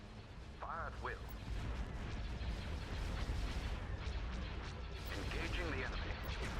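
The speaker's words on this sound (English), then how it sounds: "All batteries commence firing." Starship batteries unleashing a barrage in a Thrawn's Revenge space battle, a steady rumble of cannon fire and impacts mixed with game sound effects, with a voice speaking over the noise.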